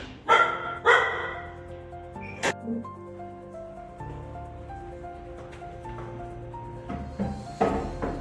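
A few loud, close barks and yips from puppies greeting workers at the door of a home, scattered over a steady tonal background hum.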